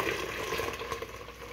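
Watermelon agua fresca poured into a container, a continuous splashing liquid stream running close and steady for over a second.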